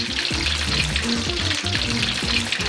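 Fresh fish in batter deep-frying in hot oil for fish and chips, a steady dense sizzle with continuous bubbling and popping that holds at an even, close level throughout.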